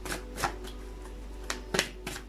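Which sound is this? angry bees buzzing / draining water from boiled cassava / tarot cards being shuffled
tarot cards being shuffled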